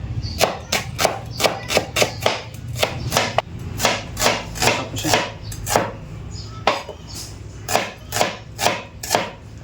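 Onions being chopped on a cutting board for a catfish dish, heard as a close, regular series of sharp knife thuds in quick bursts with short pauses, no talk.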